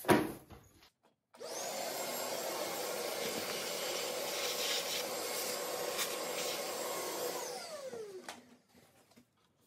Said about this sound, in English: I'm gonna quickly vacuum up some of the...